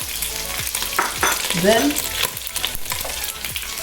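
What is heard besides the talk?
pork frying in cooking oil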